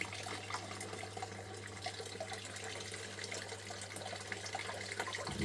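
Water trickles and splashes onto a small gold test mat sluice, a quiet, continuous running flow over a steady low hum, with no voices.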